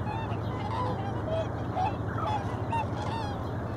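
Migrating geese on the Nile near Luxor give repeated nasal honks at a moderate distance. The honks are scattered over a steady low background rumble, with no talk.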